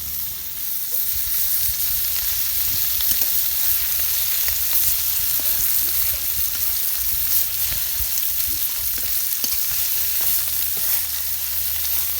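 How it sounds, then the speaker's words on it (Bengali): Puti fish frying in a pan, a steady close sizzle with crackles and faint scraping throughout, no voices. "মাছ ভাজা হয়েছে এখানে আমি তুলে নেব"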